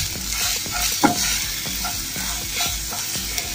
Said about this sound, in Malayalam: ഇനി നമുക്ക് കുറച്ച് 1/2 ടീസ്പൂൺ മുളക് പൊടി ഇട്ട് കൊടുക്കാം.